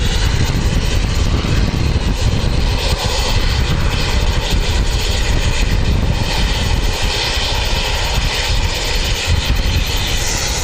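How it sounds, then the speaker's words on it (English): An ATR turboprop airliner of Air New Zealand at Wellington Airport, bound for Nelson, roars loudly and continuously with dense broadband engine and propeller noise that stays strong and close throughout. "NZ5311 going to Nelson. It's an ATR, registration MVQ."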